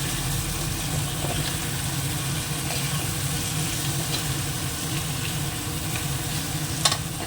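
Continuous sizzling and spitting of fish frying in a pan, moderately loud and steady, with a small clatter near the end.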